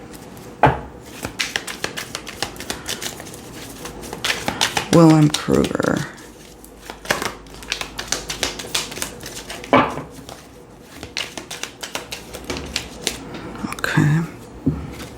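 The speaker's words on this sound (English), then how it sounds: "Let's shuffle." Divine Shadow Self Oracle cards are shuffled by hand: rapid crisp clicks, taps and riffles scattered across the whole stretch, close up, with a voice talking at intervals over them.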